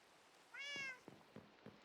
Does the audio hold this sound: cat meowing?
yes